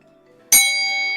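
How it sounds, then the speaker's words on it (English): A single bright bell ding struck once, loud and close, with a long ringing tone that decays slowly over a quiet background. "I want to add a bell."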